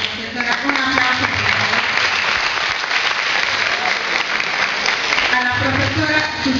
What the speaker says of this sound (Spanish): Profesora, un aplauso.